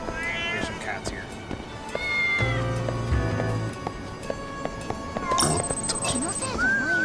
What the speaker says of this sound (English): There's some cats here.